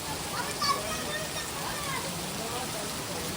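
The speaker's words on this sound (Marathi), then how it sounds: "पाऊस बघा किती येतो" Heavy rain pours steadily in a village near a swollen river, making an even, unbroken hiss without pause.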